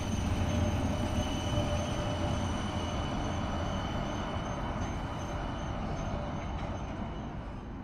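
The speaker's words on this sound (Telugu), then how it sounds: "బట్ ఈరోజు లైట్ రైల్తో స్టార్ట్ చేద్దాం." A light rail train runs close by with a loud, steady rumble and rolling wheel noise, high metallic whines and faint squeals over it, the roar easing slightly toward the end.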